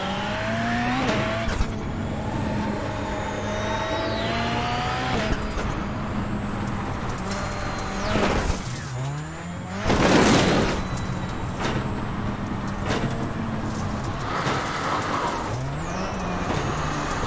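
A rally race car's engine revs repeatedly, its pitch swelling and falling in loud sweeps, with a throaty roar as the car accelerates past.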